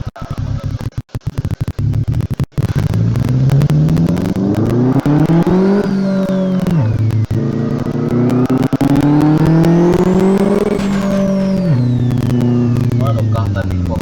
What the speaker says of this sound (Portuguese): Mano, o carro tá pipocando bastante, né?